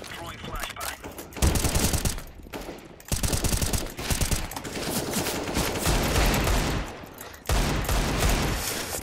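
Rapid bursts of video game gunfire, loud and close, from a tactical shooter match, with sustained automatic fire and short pauses between volleys, a player's excited voice mixed in.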